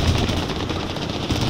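Machine gun cover fire in a video game hammers out a rapid, steady stream of loud shots, close and continuous.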